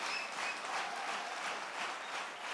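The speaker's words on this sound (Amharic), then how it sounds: "በደንብ አጨብጭቡ እንጂ" A church congregation breaks into sustained applause, many hands blending into an even, roomy roar that holds steady throughout with no distinct voices.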